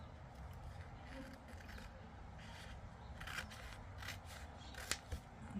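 Scissors snipping through paper in a quiet room while scrapbooking: soft, faint, irregular cuts and rustles, a couple of sharper snips near the end.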